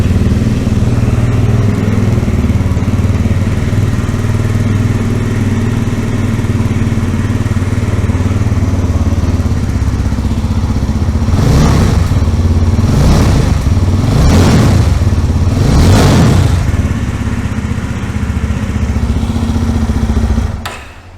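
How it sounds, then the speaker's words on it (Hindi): Twin-exhaust engine of a 2025 Yezdi Roadster motorcycle idling loud and close, then blipped through four sharp revs in quick succession before settling back to idle, no talk. "ये साउंड है इस मोटरसाइकिल के साथ में।"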